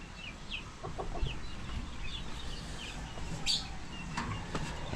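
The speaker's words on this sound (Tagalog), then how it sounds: "Tulungan ng mga manok." Chickens clucking at a rural construction site near rice fields, soft scattered clucks and chirps heard from a distance over faint outdoor background noise.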